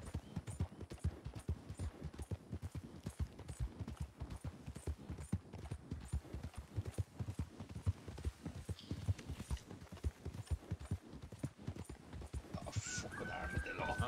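Horses' hooves clip-clop steadily in a Western roleplay video game set around Yellowstone, a dense, continuous run of close hoofbeats lasting the whole stretch, with voices talking over them.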